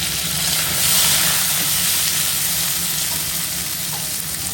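Tomatoes and three green chillies fry with browned onions in a pan, giving a steady close sizzle and hiss with bursts of steam and occasional stirring.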